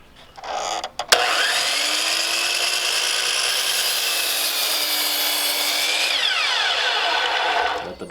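A compound miter saw slices through a 2x4, with a sharp motor start, a loud steady whining cut lasting several seconds, then the blade winding down at the end.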